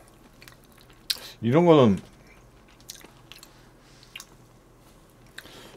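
Close-up chewing and crunching of fried chicken coated in cheese powder during a Korean mukbang, with soft bites scattered through the clip and a short spoken phrase near the start.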